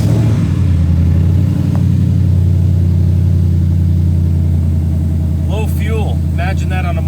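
A 2014 Ford Mustang GT V8 starts and settles into a loud, steady idle with a deep rumble, heard close; a voice speaks briefly over it near the end.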